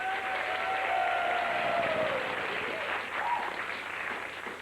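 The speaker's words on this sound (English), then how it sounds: "Another round of applause," Studio audience applause on a 1992 Blockbusters game show, a sustained wash of clapping that holds steady then slowly tapers, with no talk over it.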